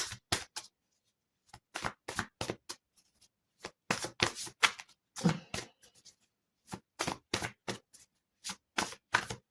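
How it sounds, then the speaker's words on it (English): Playing cards are riffled and shuffled in quick bursts of crisp fluttering, separated by brief pauses, close up and without speech. "I'll just give them a little shuffle."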